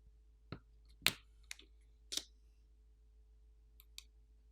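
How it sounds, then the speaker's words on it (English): Small sharp clicks from a OnePlus Nord N100 front camera cable connector being pried loose during a phone teardown, a few isolated close snaps spaced about a second apart over a quiet background, with no talking. "so we can disconnect the front-facing camera cable"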